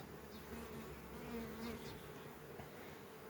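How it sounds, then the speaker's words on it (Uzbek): Honeybees at a working hive buzz steadily and close, a dense continuous drone with individual insects rising and fading across it; no voices. "Arilar ishlayapti."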